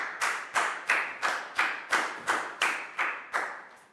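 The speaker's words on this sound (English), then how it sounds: "High five and a big round of applause for Pak Bung" A small class claps together for a student in an English lesson, about ten crisp, evenly spaced claps in a steady rhythm, close and clear with no talking.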